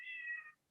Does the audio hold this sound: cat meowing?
yes